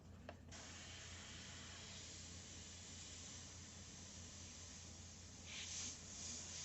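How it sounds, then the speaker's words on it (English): An airbrush spraying a test of desaturated gray flesh-tone paint, a steady soft hiss with a brief pause at the start and a slightly stronger burst near the end, close and alone. "we're always going to test out our paint and our airbrush"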